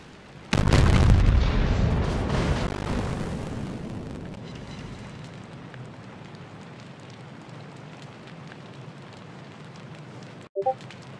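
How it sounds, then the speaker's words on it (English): A burning warship in World of Warships: a sudden loud boom followed by a long, slowly fading roar of fire and rumble, then a brief sharp pop near the end. "The ship is on fire."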